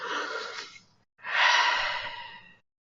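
Two slow, deep breaths close to the microphone, a long airy exhale followed by a fuller, louder breath that fades out, with no talking.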